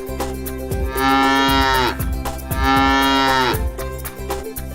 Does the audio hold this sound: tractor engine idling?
no